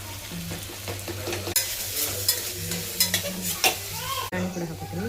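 Tomatoes go into a hot pan for vegetable biryani, sizzling and frying steadily while a spoon stirs and scrapes, with clear clatters over a continuous hiss.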